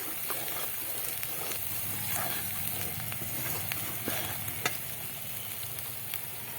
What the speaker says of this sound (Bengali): মশলাটা কিন্তু ভাজা হয়ে গেছে মশলার গা দিয়ে তেল ছেড়ে দিয়েছে